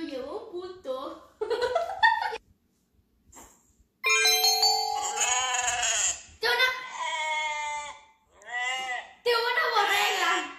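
Sheep bleats from an animal-sound guessing game come in several wavering, nasal bursts separated by short pauses, mixed with voice-like chuckling and clear and close throughout.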